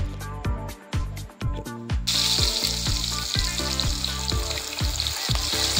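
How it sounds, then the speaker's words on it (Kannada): Chicken 65 leg pieces drop into a deep pan of hot oil, about a litre for a kilo of chicken. Rhythmic clicking comes first, then a loud, bubbling sizzle that stays steady and close. "ಈಗ ಎಣ್ಣೆ ಕಾದಿದೆ, ಈಗ ಲೆಗ್ ಪೀಸ್ ಬಿಡೋಣ"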